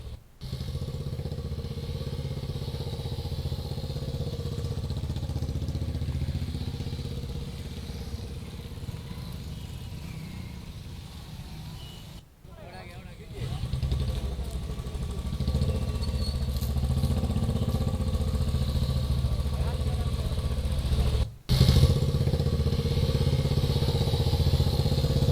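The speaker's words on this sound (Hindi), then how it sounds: "इसी के तहत मोटरसाइकिल रैली आज निकाली जा रही है" Motorcycle engines of a road safety month bike rally in Bihar, a continuous loud idling and revving drone with clattering mechanical texture, dipping briefly twice before resuming at full strength.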